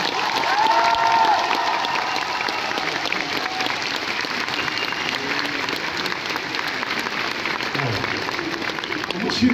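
Loud audience applause mixed with cheering from a French crowd at a live talk event, a dense, steady clatter of many hands filling the whole clip with a few voices calling out through it.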